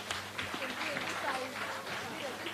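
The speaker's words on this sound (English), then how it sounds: "So you need to give all of them a big round of applause." Audience applauding people called up on stage at an event, scattered clapping blended with talk over it, moderately loud for a couple of seconds.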